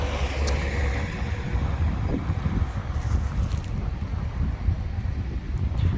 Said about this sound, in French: Il y a un bruit de vent là le long des berges, mais pas celle-là, les berges intérieures.